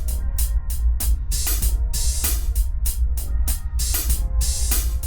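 Three layered, processed hi-hat tracks in an R&B beat, two playing open hats and one a closed pattern, ticking and hissing in a steady, busy rhythm over a low sustained bass tone.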